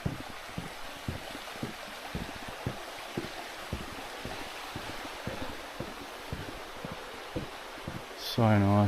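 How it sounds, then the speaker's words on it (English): Steady river water rushes and flows along a bush track near Kitekite waterfall at Piha, New Zealand, a continuous broadband wash with faint rhythmic knocks beneath, ending in a brief loud burst. "Listen to the water all the way up"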